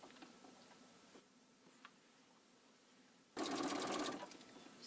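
A sewing machine stitches quilt binding, overlapping its stitches instead of backstitching: a faint, quiet stretch of ticking, then a sudden loud close burst of rapid stitching near the end.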